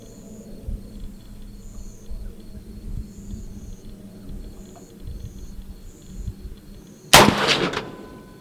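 A single sharp, loud rifle shot with Federal Match ammunition cracks out near the end, standing alone over low outdoor rumble with faint insect or bird chirps in the background.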